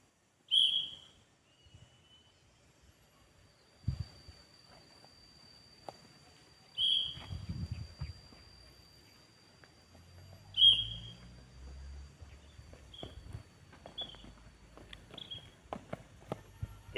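A teacher's whistle blown during a school exercise class, a few short sharp blasts spaced several seconds apart, with quiet footsteps and movement between them.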